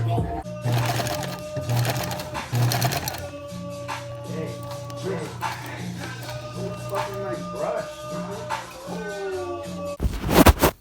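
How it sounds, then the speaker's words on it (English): A sewing machine chugs out a zigzag stitch in short, rhythmic bursts up close, with faint mechanical whirring between them and a louder rattling clatter at the very end. "I'm just sewing out with a zigzag stitch"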